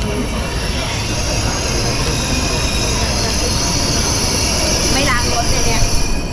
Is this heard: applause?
no